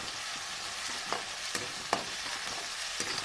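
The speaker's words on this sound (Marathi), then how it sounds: "हिरवी मिरची लसण आणि अद्रकचा पेस्ट पण टाकून घेतलेला आहे" Green chili, garlic and ginger paste frying in hot oil with onions for chana masala, a steady close sizzle broken by a few sharp stirring scrapes, with no talking.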